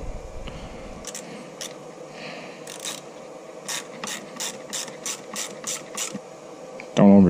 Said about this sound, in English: now that those are in, now we can tighten this one down